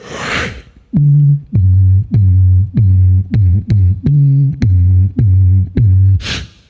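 A voice imitates a bass guitar with a run of deep, punchy plucked notes in a steady rhythm, framed by short breathy bursts.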